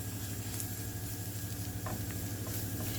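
Flour stirred into a sizzling mixture in a pan, a steady frying hiss with soft scraping stir sounds, close and quiet, no talking.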